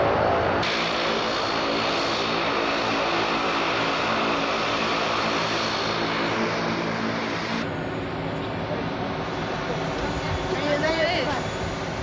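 Propeller airplane from Nice arriving on the airport runway, a steady loud engine roar filling the whole stretch with a slight shift in tone partway through.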